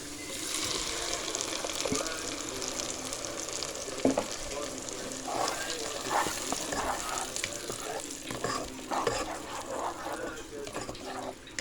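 Chopped tomatoes hitting onions already frying in a pan for a farmhouse-style Egyptian spinach dish, giving a steady close sizzle with light stirring and scraping throughout.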